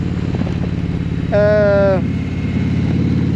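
An Indian Challenger Dark Horse 2022 motorcycle engine runs steadily on a test ride, a low continuous drone heard close, with a brief tonal whine rising over it midway.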